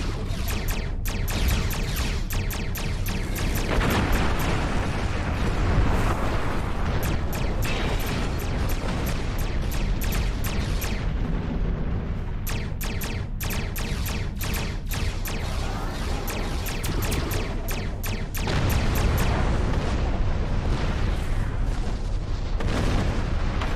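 A starship in the Star Trek Online video game takes sustained weapons fire in a space battle, with dense, continuous booms and rapid explosive bursts crackling through the whole stretch, loud and unbroken.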